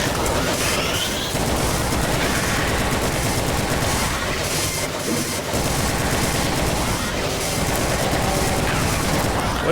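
Dense, continuous rapid gunfire with booms and crashes from the video game Brutal Doom 2 fills the whole stretch, loud and chaotic, with a voice faintly underneath.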